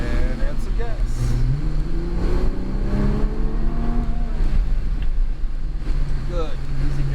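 Nissan GT-R engine on a race track, a steady loud drone with rising and falling pitch sweeps as it accelerates through turns, wind rush throughout and an instructor talking over it.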